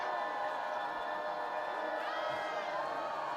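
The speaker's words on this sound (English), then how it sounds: "Crowd cheering." Crowd cheering at a high school football game, North Side at Wayne: a faint, steady roar of many voices from the stands, with no single voice standing out.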